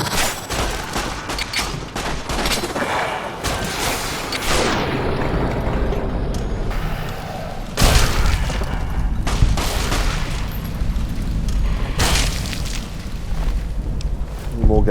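Gas bombs blow up in Fallout New Vegas Dead Money, loud booming bursts and crackling blasts stacked across the scene, with a few sharp peaks standing out from a constant roar.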